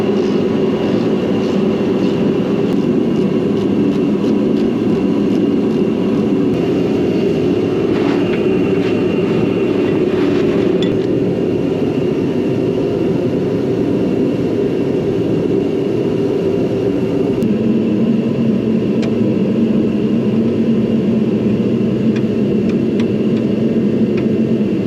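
A tractor engine runs steadily while warming up with heat held in its engine compartment on a farm readying for calving season, a loud, even drone that holds for the whole stretch with no talking.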